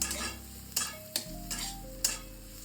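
Onions lightly frying in a pan for chicken stew, a soft steady sizzle broken by several sharp spoon scrapes and clicks against the pan, close and fairly quiet with no voices.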